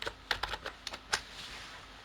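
Quick keystrokes on a computer keyboard, about eight clicky taps in an uneven burst lasting under two seconds, close and clear with no speech.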